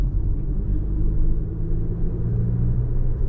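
An Audi Q3, not a four-wheel drive, cruising around 50 km/h, gives a steady low engine and road rumble from inside the cabin, continuous and even with no talking.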